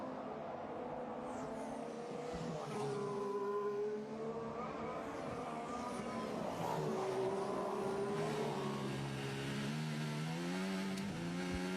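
Formula 1 car engine heard from Felipe Massa's on-board camera at the Austrian Grand Prix, loud and continuous, revs climbing and falling through gear changes and downshifts, with a steady wind and road roar beneath it and no talk.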